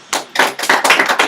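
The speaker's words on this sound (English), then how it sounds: "Give yourself a round of applause" A small group in an economy-versus-environment debate session claps in a short burst of loud, close, slightly uneven strikes lasting just over a second.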